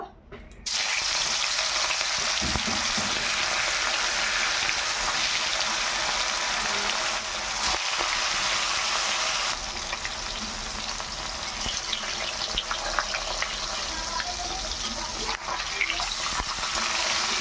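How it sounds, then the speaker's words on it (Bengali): Rohu fish frying in hot mustard oil in a wok, a dense, loud, unbroken sizzle and crackle that starts suddenly and carries on close up without any speech. "তেল গরম হয়ে গেছে এবার মাছগুলো ভেজে নেব"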